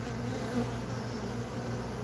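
A steady, dense buzz of many honey bees on a hive frame, close and constant, with no other sounds.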